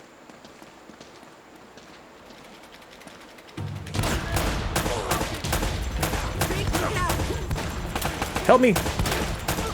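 Gunfire and commotion from the action game Uncharted: Drake's Fortune start abruptly a few seconds in after a quiet stretch, dense and continuous with crackling shots and clatter, while a voice cries out over the din.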